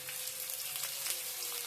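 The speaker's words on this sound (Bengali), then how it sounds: "তারপরে এখানে পেঁয়াজ ভাজার জন্য পেঁয়াজ দিচ্ছি।" Onions frying in oil in a wok with bay leaves and a cinnamon stick for chicken kosha, giving a steady, fairly soft crackling fizz throughout with no voices.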